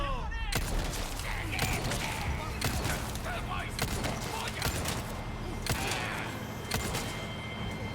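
Rapid gunfire from weapons in the video game Resident Evil 4 Remake, with repeated loud sharp shots and thuds over a dense, steady game soundscape.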